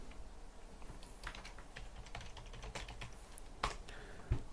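A short name is typed on a computer keyboard, a quick flurry of close, light key taps over a faint background hiss, ending in a slightly heavier keystroke, with no speech.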